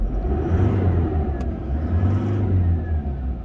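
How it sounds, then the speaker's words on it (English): A 2017 Isuzu MU-X LS-U 4x4 seven-seater's engine runs loudly up close, a deep steady rumble that swells slightly as the throttle is blipped, with no talk over it. "We'll give it a little rev for you."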